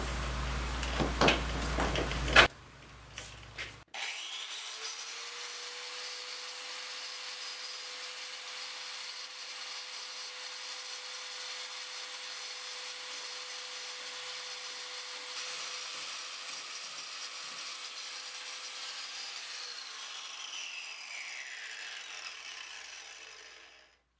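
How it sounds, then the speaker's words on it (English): Once a brief clatter at the start has passed, a bench grinding wheel grinds off protruding screw tips in a long, steady, high-pitched whir with faint scraping, then winds down at the end. "I've still got the tips poking through on a few of them. So I'm going to grind those off."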